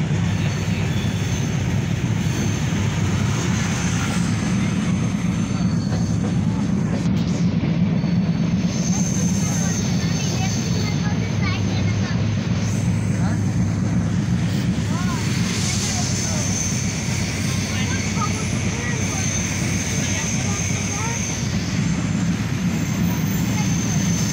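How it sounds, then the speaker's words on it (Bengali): Steady low rumble of a train moving along the tracks toward Dhaka via the Padma Bridge, continuous and close, with a constant mechanical drone throughout. "অত্যন্ত সুন্দরভাবে ট্রেনটি চালিয়ে যাচ্ছে ড্রাইভার সাহেব"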